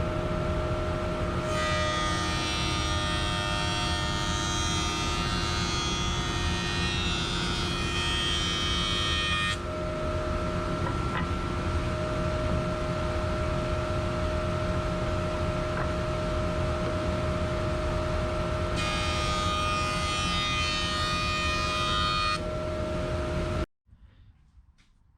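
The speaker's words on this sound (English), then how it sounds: "I'm going to take these boards and run them through the jointer." A 6-inch jointer with its guard removed mills wooden boards in a workshop. A steady motor drone with a constant hum runs throughout, thickened by two rougher stretches of cutting as boards pass over the knives, before it cuts off abruptly.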